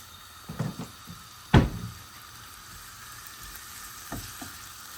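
Chopped onion going into hot oil for a snakehead fish dish, a sharp burst of sizzle that quickly settles into a low, faint frying hiss, with a couple of knocks from the pan.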